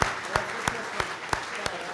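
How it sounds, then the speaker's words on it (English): An audience at an ice hockey fan forum applauds in a brief, thin patter of claps, a few distinct sharp hits in a loose rhythm, fairly close. "Round of applause there from Cory."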